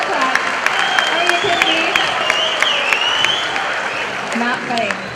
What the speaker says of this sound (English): I know. Don't clap for that.